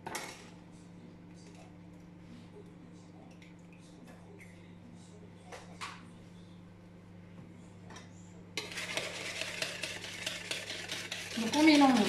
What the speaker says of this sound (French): on mélange ces 2 œufs avec ce sucre jusque le mélange blanchisse et double de volume